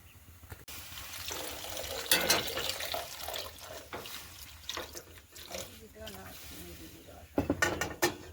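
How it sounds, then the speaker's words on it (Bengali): Water is poured into a pot of coconut being cooked for coconut sweets, giving intermittent splashes and trickles under ongoing conversation. "আর একটু জল টল দিয়ে দাও"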